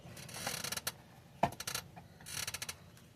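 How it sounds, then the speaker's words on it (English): Screws being fitted into the mount of an electric cooling fan on a 2002 GMC Sierra 5.3 LS, heard as a few bursts of quick mechanical clicking and scraping, with one sharp knock in the middle, fairly faint and without talk. "And then we'll put some screws in there."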